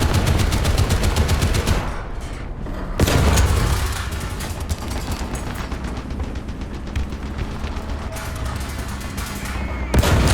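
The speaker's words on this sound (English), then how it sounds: "Machine gun." A tank machine gun fires in War Thunder from an American M4A2 (76) W medium tank: dense rapid bursts rattle continuously over a heavy engine rumble, loud and close, with a brief break and booming impacts.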